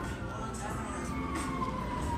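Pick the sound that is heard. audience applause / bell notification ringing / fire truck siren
fire truck siren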